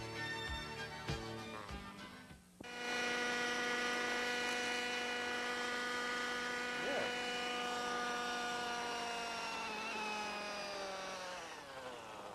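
A radio-controlled model helicopter hovering nearby, its small engine whining in a loud steady buzz with strong harmonic tones that rise and hold after a brief spool-up, wavering slightly as it hangs in the air; no talking.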